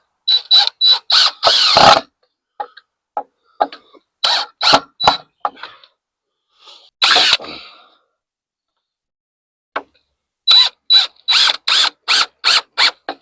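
A power drill drives screws into wood in short repeated bursts of high whirring, separated by silent pauses, close and loud.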